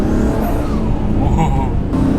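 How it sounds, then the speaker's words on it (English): A Nissan R34 GTR cruising with a quieter exhaust, its engine a steady low drone with a rising induction whoosh and whistle, close inside the cabin, under a voice talking throughout. "It's like infinitely quieter. All I hear is induction noise."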